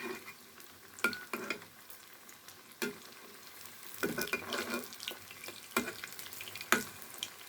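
Potato kebabs, shaped into rounds, fry in hot oil with a steady low sizzle, punctuated by several sharp clinks and scrapes of a utensil against the pan.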